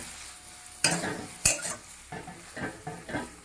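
Salted food with a splash of water being stirred in a pan, a few heavy scraping and clattering strokes over a soft sizzle, close-up and uneven in rhythm, no talk.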